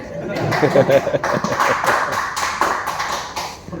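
Audience applause at a training session organised for housing society members, a dense burst of clapping that holds steady for several seconds, fairly close and loud, with a little murmuring underneath.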